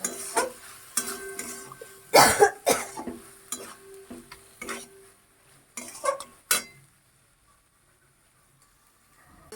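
A utensil scrapes and clanks against a wok of bottle gourd and shrimp in irregular bursts over a faint sizzle, then everything falls quiet.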